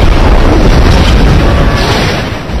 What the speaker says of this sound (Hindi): और ये हुआ हमला। एक के बाद एक दुश्मन के फाइटर प्लेन तबाह।